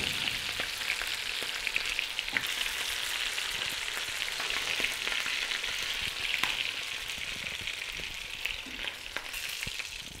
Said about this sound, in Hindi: इसी तरीके से हम बाकी का चिकन भी फ्राई कर लेंगे।